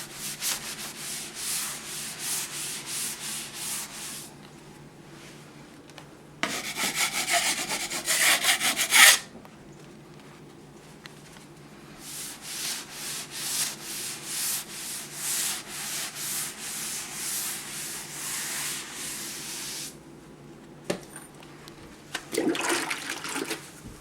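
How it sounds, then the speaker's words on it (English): A sponge rubs steadily over patched cracks in a plaster wall, a gritty scrubbing in long back-and-forth bursts with brief pauses and a few louder scraping strokes, close and alone without talk. "with the sponge, you're guaranteed to hit every single spot that needs finished"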